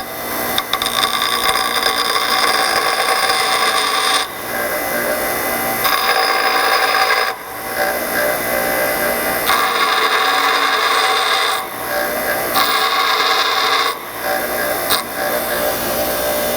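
Rusted brake pad edges from a 2003 Nissan Sentra front brake job are filed down by hand, giving loud, close, steady rasping strokes in long runs broken by short pauses.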